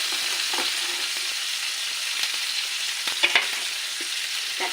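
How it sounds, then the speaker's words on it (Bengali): Chicken pieces frying in hot oil for a chicken roast give a steady, close, dense sizzle throughout, with a few soft spatula scrapes and clicks from stirring and no voices. "ভাজি করে নিয়ে পরে আলুটা ভাজি করব"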